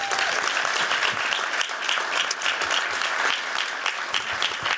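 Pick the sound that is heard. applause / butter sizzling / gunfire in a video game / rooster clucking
applause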